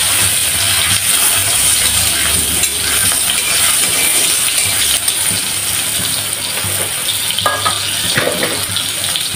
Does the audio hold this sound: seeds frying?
yes